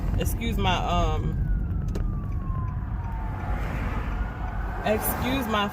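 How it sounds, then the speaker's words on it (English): An ambulance siren wails past while the listener drives, a steady wavering tone riding over constant road and engine rumble, moderately distant, with a voice briefly speaking near the start and end. "It was an ambulance coming."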